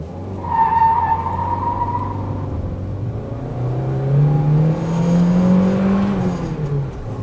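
Renault Duster 1.6 Dynamic driving through the city, a steady engine drone and road rumble with a rising whine as it accelerates, heard from close by with no talking.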